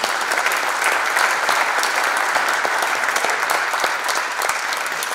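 Steady, full applause from an audience at an academy medal ceremony honoring surgeons, dense, even clapping sustained throughout with no voices over it.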